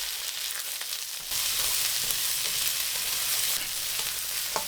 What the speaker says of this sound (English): When the oil is hot, add the vegetables, the onion, the pepper, the scapes, and 1/4 teaspoon of salt.